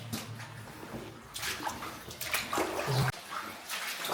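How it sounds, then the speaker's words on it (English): Running water flowing across the floor of an abandoned underground mine, a continuous splashing rush with some sloshing near by, with no talking heard. "Lots of running water on the floor,"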